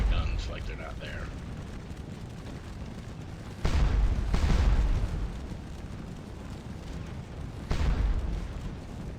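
Artillery guns fire in Scourge of War Waterloo at the Ligny battle, with about three booming blasts spaced a few seconds apart over steady battlefield rumble, while someone talks throughout.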